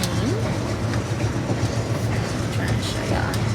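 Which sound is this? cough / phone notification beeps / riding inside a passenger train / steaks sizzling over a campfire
riding inside a passenger train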